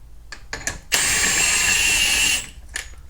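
A power tool, likely an impact driver or drill, runs the new nut on during a CV boot repair on a 2011 Toyota Sienna, a steady whir of about a second and a half, framed by brief clicks before and after.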